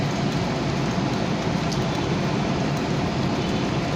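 Heavy typhoon rain pours down in a dense, continuous roar, loud and unbroken throughout with no pauses.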